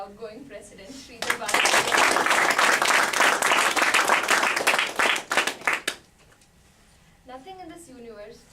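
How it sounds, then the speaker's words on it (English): An audience at an officers' installation ceremony claps warmly for the outgoing president, a loud sustained burst of applause lasting several seconds before fading out, with a voice speaking briefly before and after. "Let's give a very warm round of applause for the outgoing president, Sridhar."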